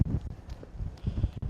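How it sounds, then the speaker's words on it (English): Gusty wind buffets a microphone outdoors at a sports sideline, with low rumbling bursts that rise and fall over a second and a half. "it's really windy out here"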